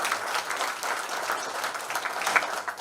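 An audience at a Delhi World Environment Day event claps in a dense, steady wash of applause that runs throughout at moderate loudness.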